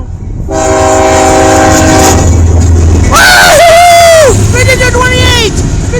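A CSX westbound local freight train rumbles past at close range, its air horn sounding a long steady blast and then a second multi-tone blast, with excited voices and crowd chatter underneath.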